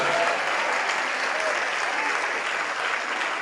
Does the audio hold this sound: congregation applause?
yes